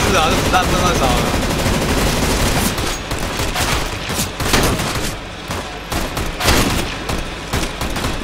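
Rapid bursts of automatic gunfire in a CS:GO zombie co-op map, dense and loud throughout with repeated sharp volleys and brief gaps, some shots standing out as louder cracks.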